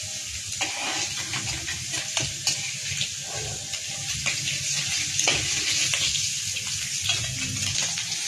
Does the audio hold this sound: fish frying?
yes